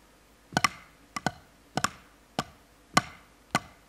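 Drum sticks playing a right-right-left-left sticking pattern, six evenly spaced pairs of crisp close strokes with short gaps between pairs, fairly quiet and with no talk.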